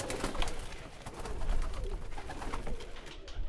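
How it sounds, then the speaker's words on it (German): Pigeons coo in the video game Randal's Monday, soft low murmurs layered over a busy, steady ambient background. "Diese Tauben sehen hungrig aus."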